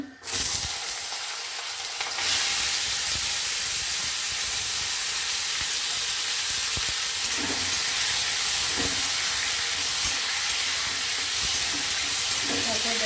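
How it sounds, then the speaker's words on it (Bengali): Potatoes hit hot oil in a kadai and sizzle loudly and steadily, a dense continuous hiss that bursts in after a quieter start and keeps up with faint stirring knocks. "এবার আমি আলুগুলো দিয়ে দিচ্ছি"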